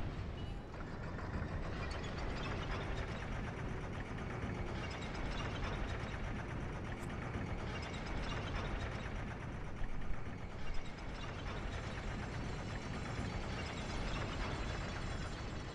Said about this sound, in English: And a really long elevator ride.